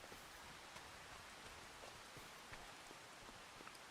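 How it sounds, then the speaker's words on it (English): Steady rain falling in a survival farming video game, a soft even hiss that carries on without a break, with scattered faint droplet ticks and nobody speaking. "Oh, it's bloody raining."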